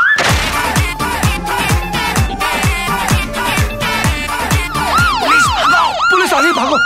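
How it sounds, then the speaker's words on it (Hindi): An ambulance siren wails loud and close in a busy street scene from a Hindi comedy film trailer, rising and falling tones cycling repeatedly over music-like percussive hits, with the siren's sweeping pattern most distinct in the last couple of seconds. "क्या है एम्बुलेंस है"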